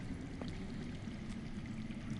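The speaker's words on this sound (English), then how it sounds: "I hear water. From underground." Underground water flows in a Game of Thrones video game scene, a low, continuous pouring rush with a faint trickling texture that carries on steadily and alone with no speech.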